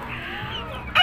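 A hen clucks in drawn-out tones near a young eight-month-old stag, ending in a louder, harsher squawk.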